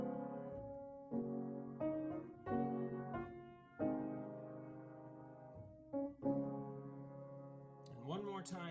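A keyboard-like instrument plays a short chord progression and melody with an added out-of-scale note, a series of sustained chords changing every second or so, moderately soft, with a brief noisy burst at the end.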